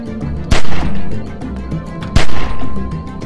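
Gunfire in The Walking Dead video game: two loud, sharp shots about a second and a half apart, each trailing into a rumbling echo over low background noise.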